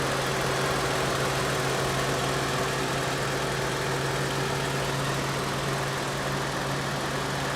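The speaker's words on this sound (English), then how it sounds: "Pretty smooth running engine" A Toyota Sienna XLE's 3.5-liter V6 engine idles smoothly and steadily, a constant low hum with a faint even drone underneath, heard nearby for several seconds without any talking.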